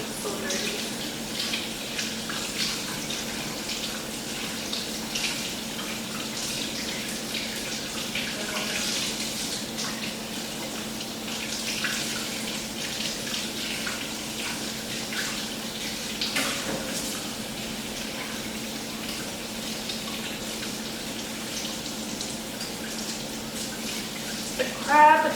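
Crab and lobster are rinsed under a steadily running kitchen tap, a continuous hiss and splash of water that stays even and close throughout, ending with a brief louder clatter.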